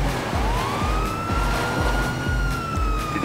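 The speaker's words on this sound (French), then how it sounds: "elle me saoule cette sirène" A wailing police siren in the video game GTA V rises and holds steady, loud and close, over a rumbling engine and a pulsing low beat, with no voices.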